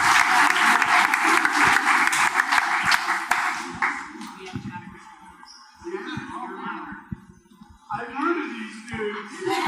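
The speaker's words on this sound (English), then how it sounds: "let's have another round of applause for the cast of Star Wars Clone Wars" Comic Con panel audience for a Star Wars: The Clone Wars cast applauding loudly, dense clapping for about three seconds, then thinning to scattered claps under a voice before another swell near the end.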